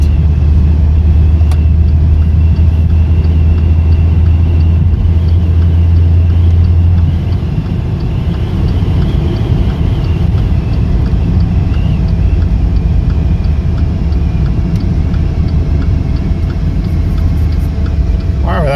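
A 2017 Maserati Ghibli drives along with a steady, loud engine and road rumble filling the cabin, a low hum sitting under it for the first several seconds.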